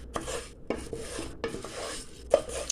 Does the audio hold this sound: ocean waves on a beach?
no